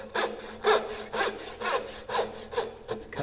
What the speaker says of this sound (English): drop that saw down into the kerf